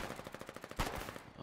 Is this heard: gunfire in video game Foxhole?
yes